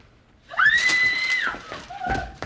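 A woman lets out a high, sustained scream in a TV episode of Firefly, sharp and loud for about a second, then trails into a shorter, lower cry.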